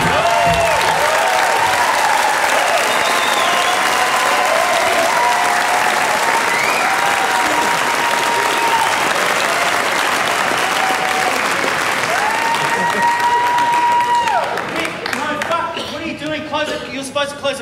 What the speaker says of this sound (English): Now close the curtains, Bob, close the curtains. While they're still clapping.